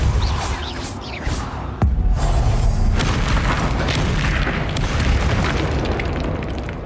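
A Confringo spell explosion in Hogwarts Legacy, heard as booming blasts and a sustained rumbling roar of fiery noise, with sharp impacts near the start and a continuous dense wash afterward.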